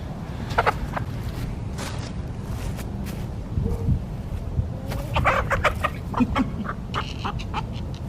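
Backyard chickens cluck and call in short bursts at moderate distance, scattered over a steady low outdoor rumble.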